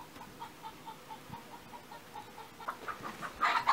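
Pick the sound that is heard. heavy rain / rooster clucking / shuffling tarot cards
rooster clucking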